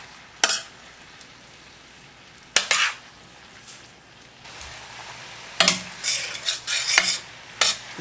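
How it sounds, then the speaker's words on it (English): Red onions stewing in a pan over medium-high heat for marmalade, a low bubbling sizzle with a few bursts of spoon scraping and clattering against the pan, close and unaccompanied by talk. "Be sure to stir it."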